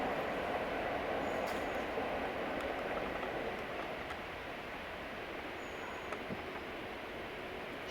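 A train rolls past on a nearby railway line beside woodland, a steady broad rumble that is loudest at first and eases slightly as it continues, with no one speaking.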